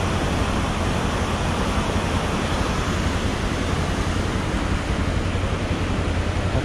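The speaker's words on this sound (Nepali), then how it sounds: "खोला ठुल्ठुलो रहेछ" A large mountain river in Dolpa rushes with a loud, unbroken roar of turbulent water, close and steady throughout with no voices.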